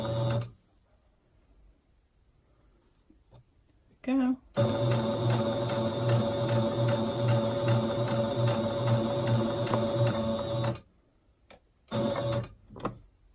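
A sewing machine stitches fabric in one steady, continuous run of rapid mechanical whirring lasting several seconds, framed by quieter moments and brief handling sounds.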